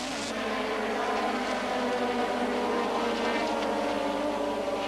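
1986 Formula 1 cars, McLarens and Williams Hondas, race past with a continuous loud, high engine roar that stays dense and steady throughout.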